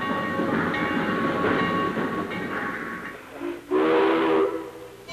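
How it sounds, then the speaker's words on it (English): A steam train rumbles and clatters along, then its whistle sounds loudly for about a second, a bright sustained tone over the rolling noise. "the whistle of a passing train"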